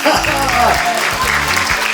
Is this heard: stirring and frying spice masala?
no